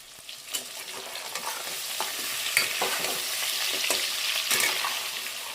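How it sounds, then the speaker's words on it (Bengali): Chicken pieces frying in hot oil in a wok, a steady close sizzle with clinks and stirring scrapes throughout, no talk. "কড়াইতে তেল দিয়েছি তেলটা গরম হয়ে গেছে এবার মাংসগুলোকে ফ্রাই করে নেব"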